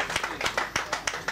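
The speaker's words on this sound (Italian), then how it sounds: "Facciamogli un applauso" At a futsal awards event, a small group claps for award winner Matteo Cucchi, a handful of distinct, fairly loud claps in an uneven rhythm rather than a full crowd ovation.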